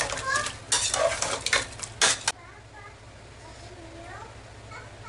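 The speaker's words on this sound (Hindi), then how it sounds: "अब इसे मिलाना है टमाटर और ये प्याज" Spoon scraping and clinking in a pot as mutton stew is mixed with tomatoes and onions, a burst of busy stirring clatter that stops abruptly, leaving quiet kitchen room tone with faint background voices.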